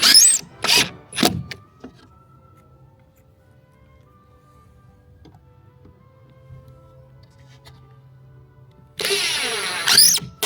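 Power driver sinking long coated wood screws into plywood for penguin yard art cutouts: short loud whirring bursts at the start, a quiet stretch with low hum, then a longer sustained driving whir near the end.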